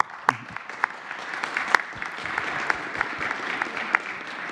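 Scattered audience applause at a press conference, moderate and fairly distant, with individual sharp claps standing out over a soft steady patter.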